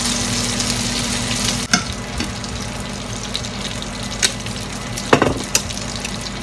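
Alfredo sauce goes into a hot pan for chicken Alfredo pasta and cooks with a continuous close sizzle, broken by scattered clinks and scrapes of a utensil against the pan.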